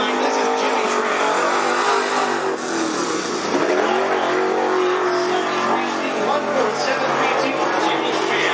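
Crate late model race cars roar around the oval at Cottage Grove Speedway, a loud sustained engine drone with passing pitch shifts, while an announcer talks over the PA.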